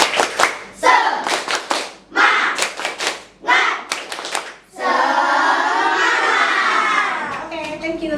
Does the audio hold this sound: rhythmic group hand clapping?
yes